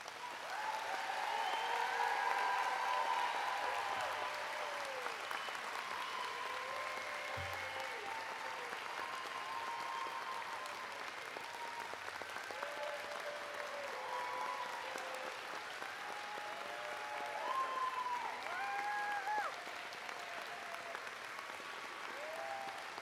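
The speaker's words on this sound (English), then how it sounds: "please join me in one more round of applause for our graduates" Graduates at the 2019 TCNJ English Department commencement ceremony receive sustained applause from a large crowd, a steady, even clapping that fills a hall for over twenty seconds with faint voices mixed in.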